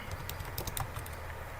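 Keys clicking on a computer keyboard while text is typed, a short burst of several light taps over a steady background hum.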